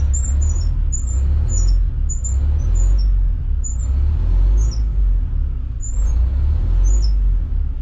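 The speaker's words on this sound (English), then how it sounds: "he's got a nice exhaust leak" A bus engine with an exhaust leak runs steadily up close, a loud low rumble throughout with a repeating high squeal or chirp on top.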